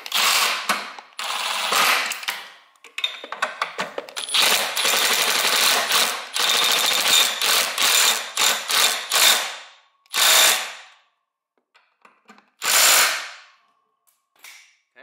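A wrench ratchets down bolts on the belt cover of a Toro TimeMaster 30-inch mower. Close, loud bursts of rapid clicking stop and start, and shorter separate strokes follow near the end.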